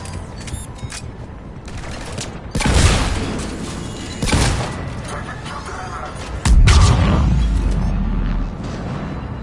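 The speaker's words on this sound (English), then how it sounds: "Those cannons have to be stopped." Heavy cannons firing in Mass Effect 3, several loud booming blasts at irregular intervals over a steady mechanical rumble, each followed by a sustained roar.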